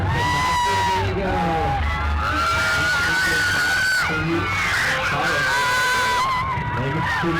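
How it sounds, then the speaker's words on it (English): A dense crowd at a school Grand Prix race whoops, yells and cheers loudly and without pause, with voices shouting close by over the constant roar. "Let's cheer him on."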